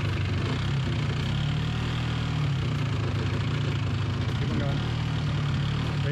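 A car engine idles steadily with a low, continuous rumble while backing up a trailer, staying close and even throughout with no clear revving or gear changes.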